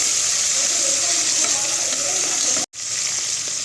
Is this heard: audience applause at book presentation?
no